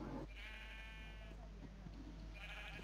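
Sheep in a modded Minecraft server bleat twice, a long bleat at the start and another near the end, faint and separated by a quiet stretch over a steady low hum, with a soft voice briefly in the background.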